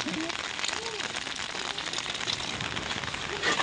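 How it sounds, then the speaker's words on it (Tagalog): Steady rain patters and hisses on a surface, with faint voices murmuring underneath. "May ulan."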